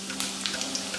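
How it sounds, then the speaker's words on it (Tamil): Steady hissing sizzle of karuvadagam, a dried seasoning ball, tempering in hot oil, with small crackles and pops scattered throughout, close and fairly quiet. "சோ இத தாளிச்சிட்டேன் நான் இந்த கருவடகம்"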